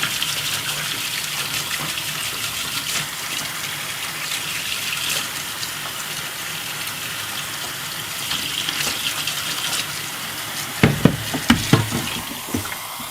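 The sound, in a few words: hot water being poured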